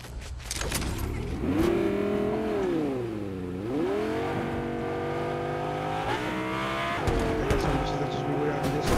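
A car driven in Fortnite, its engine rising and falling through revs and gear changes with some tire squeal, close and steady, while a player talks over it.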